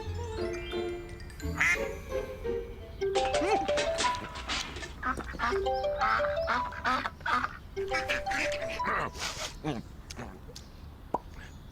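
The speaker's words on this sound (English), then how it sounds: "look at the ducks." Ducks quack in busy, overlapping bursts throughout, mixed with other bird calls and some talking in the background.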